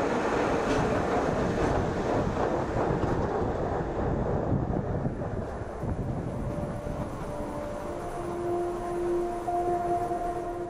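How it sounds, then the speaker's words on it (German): The Pilatus cog railway, the oldest and steepest rack railway in Switzerland, rumbles and clatters steadily with wind noise, then settles into a quieter hum with faint tonal whines. "Hier fährt die älteste und steilste Zahnradbahn der Schweiz auf den Pilatus."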